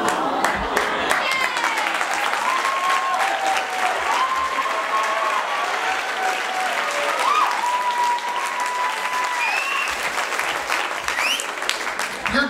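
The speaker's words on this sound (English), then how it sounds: "You're cheering, you're clapping," A live show audience fills the room with dense, steady applause and cheering. Sustained clapping carries throughout, with a few high whistles rising above the crowd.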